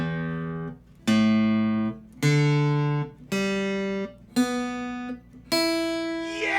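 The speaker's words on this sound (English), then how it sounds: "Once your guitar's in tune, your strings should sound like this." Tuned guitar strings are plucked open one at a time, six separate ringing notes that each sustain and fade before the next, clear and close with no talking.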